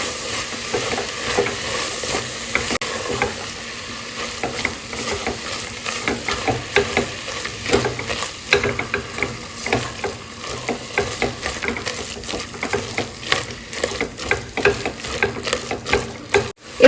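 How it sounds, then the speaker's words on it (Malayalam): A spoon stirs turmeric, coriander and chicken masala through chicken biryani in a pressure cooker, giving irregular scraping and clinking strokes over a soft sizzle, close and continuous with no talking. "നന്നായി ഒന്ന് യോജിപ്പിച്ച് കൊടുക്കാം"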